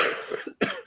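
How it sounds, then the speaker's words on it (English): A man gives two quick coughs close to the microphone, separated by a brief silence. "I got a little bit of a cough."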